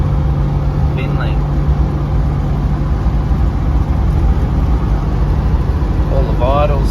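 A Holden with straight-cut gears and an upgraded camshaft drones steadily while cruising on rough country roads, a loud constant engine and road rumble with a low hum, and a person talks over it.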